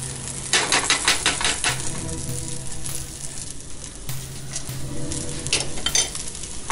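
Food sizzling in a pan for dal-chawal being stirred, a dense close crackle overlaid with rapid scraping and tapping strokes of a utensil against the pan.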